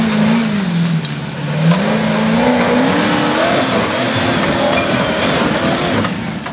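A vehicle engine revs hard and steadily on a steep hill climb at Montalieu-Vercieu, a loud sustained roar whose pitch rises and wavers as it strains up the slope, close by and without speech.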